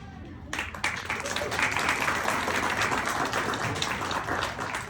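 A crowd at a 5K run/walk for missing and murdered Indigenous people in Southern Arizona breaks into sustained applause that starts suddenly and carries on loud and dense for several seconds, with faint voices mixed in.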